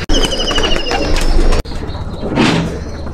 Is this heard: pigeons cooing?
yes